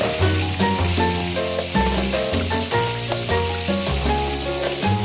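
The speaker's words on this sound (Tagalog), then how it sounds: "Pinapaliguan ko pa rin ng mantika para mas maging golden brown yung kulay." Chicken fries in hot oil as it is basted to turn golden brown, a constant close sizzle running beneath loud, prominent background music, with no talking.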